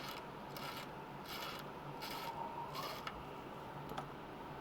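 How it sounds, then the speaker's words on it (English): A pearl picker is tightened, making a few faint, evenly spaced rubbing and ratcheting strokes, with a couple of small clicks toward the end. "Just need to tighten up the pearl picker before I do anything else."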